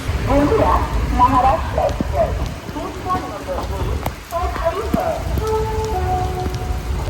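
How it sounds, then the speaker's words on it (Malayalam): Steady heavy rain drums on a surface during a train journey on the Konkan route, with voices talking over it and a few clattering knocks in the middle. "ഇവിടെ ഇപ്പോൾ ഭയങ്കര മഴയാണ് കേട്ടോ"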